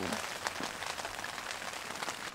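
Rain falls on a campsite during a solo spring motorcycle camping trip, a dense, even patter of drops striking surfaces, steady and moderately quiet throughout with no voices.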